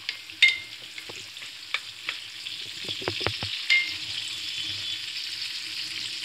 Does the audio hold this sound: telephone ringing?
no